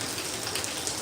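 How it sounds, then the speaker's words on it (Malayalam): Heavy monsoon rain pours down steadily in Kozhikode, a dense, even hiss of drops striking surfaces close by, with no voices. "നല്ല മഴ നല്ല തണുപ്പല്ലേ"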